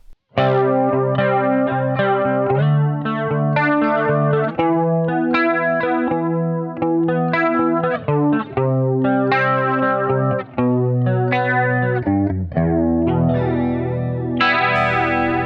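An electric guitar on its bridge pickup plays through a Tampco The Twist modulation pedal, with a loud, sustained run of notes and chords that swirl with chorus-like modulation and a slightly distorted, gritty edge, played alone.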